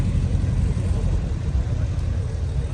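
Engines rumble steadily at a big classic car gathering as cars pull away, a continuous low motor drone close by with crowd noise blended in.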